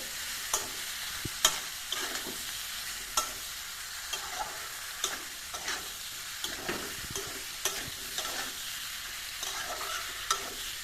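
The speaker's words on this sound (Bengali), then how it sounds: "ভালো করে এটাকে এঁচড়ের সাথে মিশিয়ে নেব মশলাগুলো।" Spices being stirred into jackfruit in a pan for a Bengali-style jackfruit curry, with a steady soft sizzle under repeated scraping strokes of a spoon at an uneven rhythm, close and clear, without talk.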